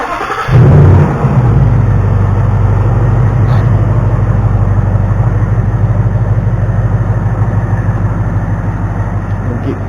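A 2019 Ford Mustang GT V8 engine cranks and catches with a loud burst, then settles into a steady, deep rumbling idle that continues throughout.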